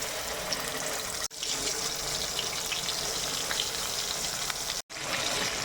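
Ground spice paste hits hot oil in a pan for a crab fry and produces a loud, dense, continuous sizzle. The sound cuts out briefly twice, with no talking.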